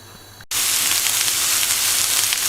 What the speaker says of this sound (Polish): podsmażymy sobie cebulkę i będziemy dodawać kolejne składniki